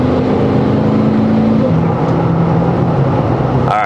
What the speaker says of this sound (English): We're gonna do full throttle here. So we're gonna go from 0 to 80.